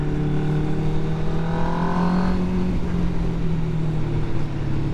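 A motorcycle engine running on its first outing of the year after running problems last year, a loud, steady close-up drone that briefly rises in pitch before settling, with no talking.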